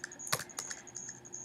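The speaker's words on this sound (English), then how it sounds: "you go to Google and you type in" A handful of quick keystrokes on a computer keyboard, soft and close in a quiet room, with a brief cluster of taps followed by a few scattered clicks.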